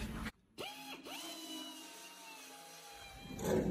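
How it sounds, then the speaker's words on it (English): An air grinder cuts spot welds on a 1973–1979 Ford truck long bed. It revs up with a rising whine, stops briefly, spins up again and then winds down, close and moderately loud, with no talking. "we're going to use this air grinder here"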